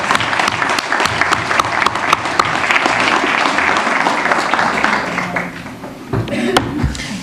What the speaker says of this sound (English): Give yourselves all a big round of applause.